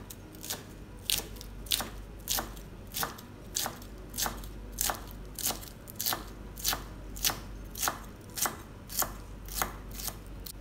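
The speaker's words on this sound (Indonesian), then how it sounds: "Ini dipotong asal aja biar aromanya keluar." Regular knife chops on a cutting board as herbs for Indonesian urap seasoning are roughly cut, about a dozen evenly spaced crisp strikes, close up with a low steady background hum and no speech.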